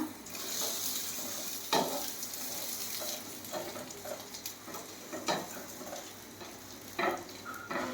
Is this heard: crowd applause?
no